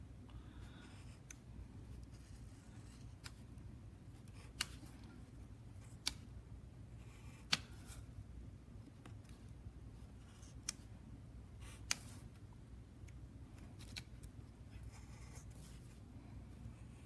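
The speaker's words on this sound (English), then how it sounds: "Sometimes I just like to cut out the character illustration." A paper character illustration is cut out with scissors. Quiet, sparse snips and clicks come over a low room hum without talking, and a few sharper snips stand out.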